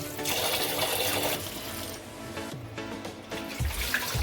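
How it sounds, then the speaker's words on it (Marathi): Water splashes and sloshes continuously close by as capsicum is rinsed in a basin. "शिमला मिरची पहिल्यांदा स्वच्छ अशी धुवून घ्यायची दोन तीन पाण्याने"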